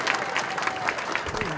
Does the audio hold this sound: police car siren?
no